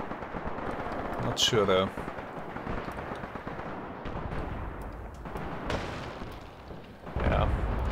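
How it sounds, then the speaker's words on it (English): Mortar and artillery shelling in the World War II game Graviteam Tactics: Mius Front, heard as scattered thuds and booms under continuous battlefield rumble, with someone talking briefly over them. "Somewhere a mortar is shooting at me."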